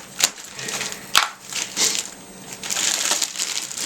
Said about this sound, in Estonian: Tuleb välja, et mu käärid ei lõika seda